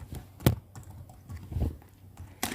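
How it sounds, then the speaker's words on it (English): Keystrokes on a computer keyboard, a few sharp clicks spaced irregularly between quiet gaps, close and fairly soft. "Therefore, we type D, then colon, then string."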